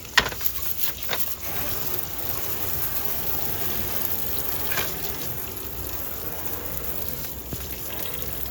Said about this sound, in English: Okay, so I'm gonna add a little bit of water here.